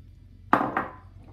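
Pieces of lamb and onions dropped into a pot, making two quick close clunks a fraction of a second apart that ring briefly, with no talking.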